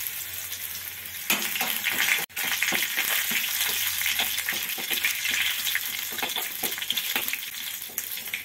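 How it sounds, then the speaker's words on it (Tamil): Garlic and curry leaves fry in hot oil for a South Indian tempering, giving a loud, steady sizzle and crackle with a brief pause partway through and stirring clatter throughout. "இப்போ பூண்டு போட்டுக்கலாம். கருவேப்பிலை சேர்த்துக்கலாம்."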